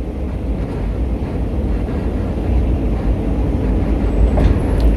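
Work train laying track on the new Jakarta–Bandung high-speed rail line near Purwakarta, rumbling past with a heavy low roll that builds louder toward the end, mixed with wind buffeting the microphone.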